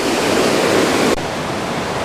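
Eas Fors waterfall roars as a loud, steady broadband rush of falling water nearby, continuous and unbroken with no voices, dropping slightly in level partway through.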